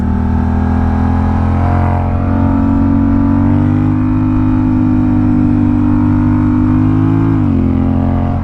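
A Honda Rebel 1100 motorcycle engine revs steadily and loudly with layered harmonic drone, pitch dipping briefly as the rider downshifts near the end.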